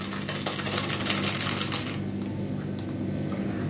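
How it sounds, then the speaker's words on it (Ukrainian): A whisk beats sugar, salt and vanillin together in a bowl for bun dough, giving a fast, steady rattling clatter close by that eases off slightly partway through, with no voices. "Розмішуємо до того стану, щоб у нас розтав цукор і сіль."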